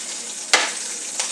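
Peas sizzle while being sautéed with a pinch of asafoetida in a hot pan: a steady, soft frying hiss broken by one sharp stir or scrape and a fainter second one near the end.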